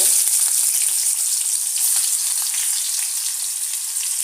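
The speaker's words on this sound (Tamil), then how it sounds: "இது கடுகு கொஞ்சம் வெந்தயம் போட்டு நல்லா பொரிய விட்டுருங்க" Mustard seeds and a little fenugreek spluttering in hot sesame oil, a steady loud bright sizzle with faint pops running throughout, close up and with no voices.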